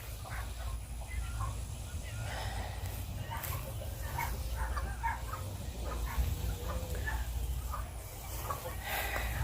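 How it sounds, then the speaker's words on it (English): Neighbouring chickens cluck loudly and repeatedly at close range in the early morning, with a dog barking now and then over a constant low background rumble. "My neighbor's chickens are loud."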